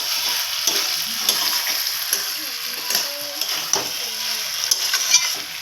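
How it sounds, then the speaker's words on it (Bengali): Chicken pieces with potatoes in oil are stirred in a frying pan, steady sizzling under repeated scraping strokes of the spoon, close and fairly loud with no talking. "দেখো, ভালো করে নাড়াচাড়া করছি, মাংসটাকে এইভাবে কষিয়ে এসেছি।"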